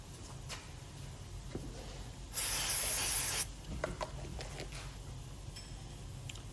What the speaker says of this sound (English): we did just give it a little bit of a spray with some penetrating oil as well